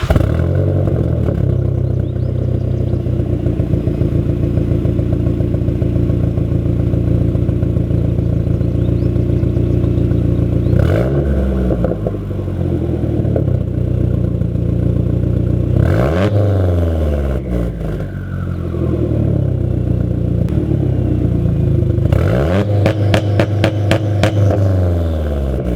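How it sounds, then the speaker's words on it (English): Warm engine of a modified 350 WHP Mazdaspeed 3 starting and idling loudly up close, then several sharp revs rise and fall, with a quick burst of repeated blips near the end. "So I'm going to do a startup, and the car is already warm because I just got home. But yeah, we're gonna do a few revs."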